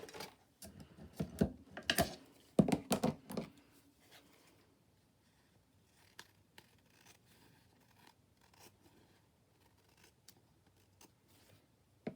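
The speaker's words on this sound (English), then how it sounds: "Give that a little trim." Scissors trim paper for a collage journal, a quick run of crisp snips and rustles close up, then softer scattered clicks and paper handling.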